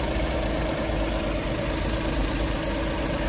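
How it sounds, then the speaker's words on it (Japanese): A Suzuki Scrum kei truck's small engine idles smoothly and steadily at close range, a constant low hum with no voices. "滑らかなエンジン音で"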